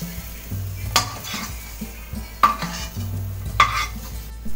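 Ginger, green chili and browned onions frying in a kadhai, a soft sizzle broken by three sharp metallic clinks of a spoon against the pan, close and without talk.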